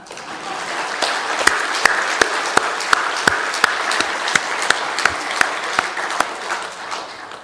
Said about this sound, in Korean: 우리 아내와 엄마를 위해서 감사의 박수 한번 치십시다